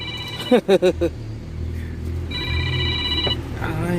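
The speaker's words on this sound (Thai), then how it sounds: "สายเข้า" A mobile phone rings with an incoming call inside a moving truck, a bright electronic ringtone sounding for about a second over steady engine and road rumble, after a few short, loud tonal blips.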